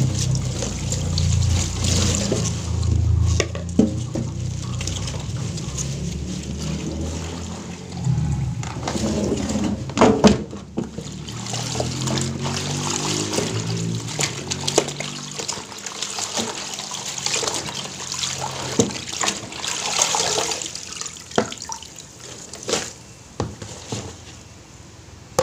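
Tap water runs steadily and splashes while papaya leaves are washed by hand outdoors. The flow trickles and gurgles continuously at close range, with intermittent clunks and splashes from handling the leaves.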